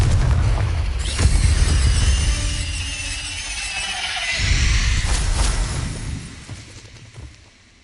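Confringo fire spells blast in the Hogwarts Legacy video game, loud booming impacts with crackling, rushing bursts, layered over a continuous background of game sound.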